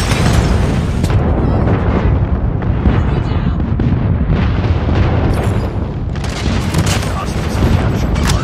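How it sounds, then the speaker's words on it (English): Airstrike explosions in the Call of Duty Mobile multiplayer game rumble as a dense, loud barrage of booms and blasts. The roar runs unbroken throughout, with faint voices beneath it. "Friendly airstrike incoming."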